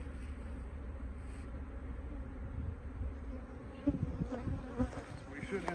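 Dense, steady buzzing of many honeybees at an open hive being reversed to prevent swarming, close and continuous, with a few soft knocks of equipment near the end.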